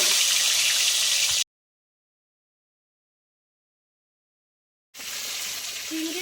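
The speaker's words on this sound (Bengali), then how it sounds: "এবার আমি এই পটলগুলো এরকম ভেজে নেবো, ভেজে তুলে রাখবো।" Prawn-stuffed pointed gourds (potol) sizzle and crackle in hot oil in a pan, a steady close frying hiss that cuts out for several seconds and then resumes.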